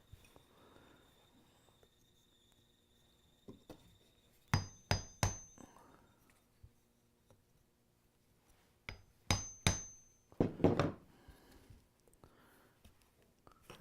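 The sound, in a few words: center punch struck with a hammer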